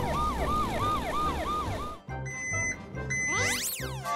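A toy ambulance blares a loud, close electronic wailing siren in rapid repeating cycles, then chimes and tinkles followed by a swooping electronic sweep.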